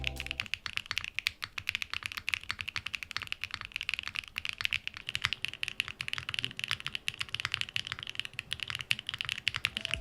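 Rapid, continuous typing on a fully foamed Neo60 mechanical keyboard, each key giving a crisp clacky pop in a busy, uneven rhythm, close up.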